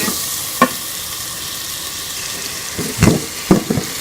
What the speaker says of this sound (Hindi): मसाले को जो है अच्छी तरह से भून लेंगे।